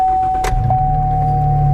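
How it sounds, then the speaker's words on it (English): A truck's engine is started: a brief burst of starter noise, then a low, steady idle hum settles in, with a constant thin electronic whine running underneath. "If I start the truck,"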